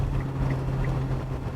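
A BAIC Kenbo 600 car's engine drones loudly with a steady low hum while wind rushes past during driving, constant and close with no talk.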